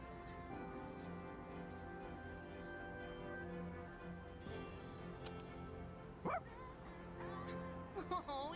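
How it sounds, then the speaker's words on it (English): A dog in Persona 3 Reload gives a few short, faint yips and barks, brief and scattered, under steady background game music. "Oh, he did it! What a smart dog!"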